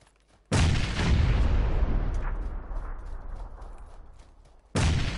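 Grenade explosion in the PUBG Mobile battle royale game, a sudden loud boom that rolls off into a long decaying rumble, then a second sharp blast cuts in at the end.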